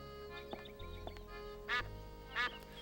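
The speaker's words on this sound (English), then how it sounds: "it like makes duck noises. It quacks." A duck in the Escape from Monkey Island video game quacks twice in loud, close bursts after a few soft clicks, heard over a steady low hum with no talk.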